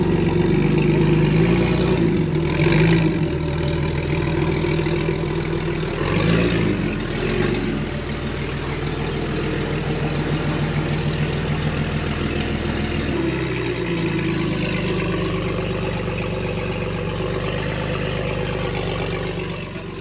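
An off-road trail vehicle without a muffler idles loudly and close with a deep, rough rumble, briefly rising and falling in pitch early on before settling into a steady low idle.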